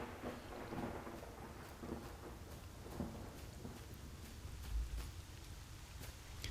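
Rain falls steadily in a thunderstorm in the S.T.A.L.K.E.R. Lost Alpha video game, with low rumbles of thunder rolling underneath, distant and fairly quiet, and no voices.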